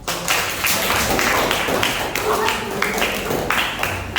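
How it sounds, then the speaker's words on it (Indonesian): A classroom group applauding during a school gathering, steady dense clapping at close range for several seconds, with a few louder taps standing out. "Kita beri aplaus untuk kita semua."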